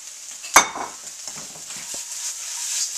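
Spinach being stirred into eggs and potatoes in a pan for a breakfast burrito, with one sharp utensil scrape near the start, then soft sizzling and light stirring continuing steadily up close.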